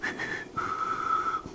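A person whistles a greeting signal, two short rising notes and then a longer sustained tone, close and moderately loud with some breathy noise.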